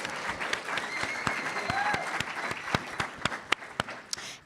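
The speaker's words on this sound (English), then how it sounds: "a round of applause for my mom" An audience applauds for a speaker's mother at an Amanda Gorman talk, a dense patter of many hands with a few sharper, louder claps standing out near the end.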